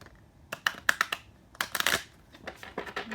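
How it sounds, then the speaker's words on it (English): Tarot cards shuffled by hand in a few quick riffling bursts, crisp papery flutters and slaps with brief pauses between them, close and fairly clear. "Let's give it one more shuffle."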